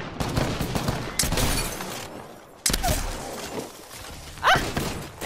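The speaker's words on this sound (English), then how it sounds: "Shooting." Heavy gunfire in the shooter Apex Legends, a dense, noisy clatter of rapid shots and impacts, loud and continuous with brief lulls.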